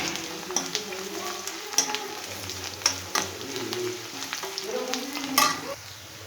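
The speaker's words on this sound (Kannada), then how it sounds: "ನೋಡಿ, ಈಗ ಈರುಳ್ಳಿ ಫ್ರೈ ಆಗಿದೆ." Onions fry in a pan for pasta with a close, crackling sizzle and repeated scraping of a spatula stirring them, a lively rhythm of strokes over the continuous hiss.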